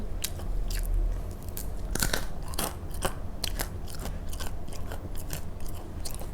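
Crispy baked dried fruit is chewed close up, with loud crunching bites and brittle cracking repeated steadily over a constant background hiss, and no speech.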